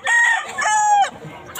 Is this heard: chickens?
yes